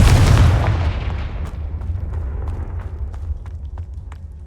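A Confringo fire spell in Hogwarts Legacy lands as one heavy, booming blast that rolls away over a few seconds, followed by faint scattered taps and clicks of game action.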